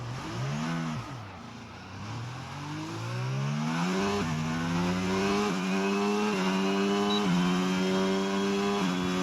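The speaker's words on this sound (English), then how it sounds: "I just remembered I've chosen the bloody Red Bull engine, haven't I? I've got to listen to that little whine all season long." A Red Bull-engined Formula 1 car in the racing game F1 22 whines steadily, its pitch climbing through repeated upshifts with brief dips between gears, loud and continuous with no talking.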